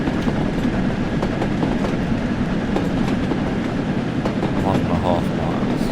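A steam locomotive pulling away in Train Sim World on the Peak Forest route from Buxton to Manchester: a dense, continuous close rumble with faint rhythmic beats and clicks, someone talking briefly over it.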